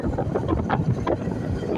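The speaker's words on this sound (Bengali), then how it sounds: "খুব বাতাস আসছে আজকে" Strong wind buffeting the microphone at a hillside earthmoving site in Damalkia, a steady broadband roar with gusty swells throughout and no talk.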